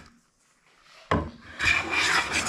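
A hand plane takes shavings from the wooden top of a round table. After a quiet start there is a sharp rasping stroke, then a longer, louder scraping pass. No one speaks.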